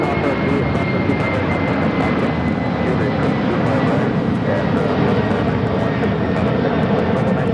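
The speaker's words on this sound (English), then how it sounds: "Western Global Airlines 9258 taking off to Sacramento on the 747-400 freighter" A Western Global Airlines Boeing 747-400 freighter jet takes off at LAX with a loud, steady roar of engine noise that holds throughout without pause.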